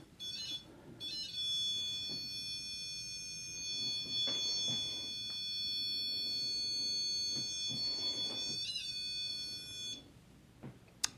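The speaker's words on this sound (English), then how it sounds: "It makes some fun beep sounds." An electronic device on a window in an old jail gives out steady, sustained high-pitched beeping tones from about one to ten seconds, with soft knocks and faint movement noises beneath.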